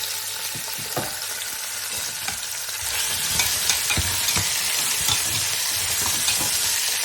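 Lamb meat sizzles and fries in a pan for a spinach curry, with a constant hot crackle that grows louder partway through and scraping stirring strokes on top.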